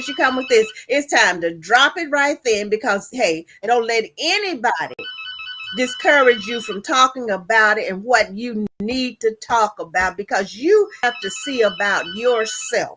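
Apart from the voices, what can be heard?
mobile phone ringtone ringing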